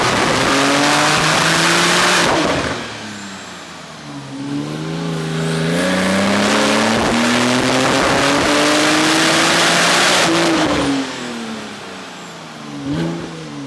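A tuned Porsche 991 Turbo S on a dyno, its engine revving hard in long climbing pulls that roar loudly, drop off and climb again, with a brief rev blip near the end.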